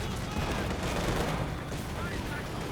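Grenade blasts and battlefield gunfire rumble through a Company of Heroes 2 match, a dense, continuous roar of explosions and shooting heard at moderate distance with no clear pauses.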